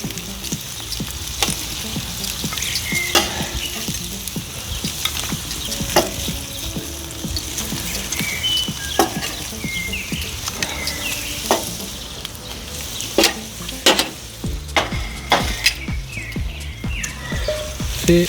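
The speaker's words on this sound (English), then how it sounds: "Now we are gonna just stir fry a little bit, saute our veggies here" Vegetables sauté in a hot pan for shrimp paella: a steady, loud sizzle runs throughout, punctuated by clicks and scrapes of a utensil stirring.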